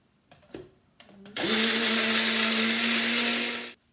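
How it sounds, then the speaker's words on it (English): A high-powered blender starts after a few brief knocks and handling sounds, then roars steadily at full speed for about two seconds before cutting off, loud and close with no talking. "Yeah, with a high-powered blender."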